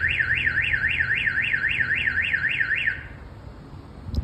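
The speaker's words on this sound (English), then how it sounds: "That's just like a little warning chirp. Like, hey, I got an alarm." A Viper alarm siren on a 2004 GMC 2500 HD loops its rising-and-falling wail about eight times, loud and close, then cuts off, leaving only low background rumble.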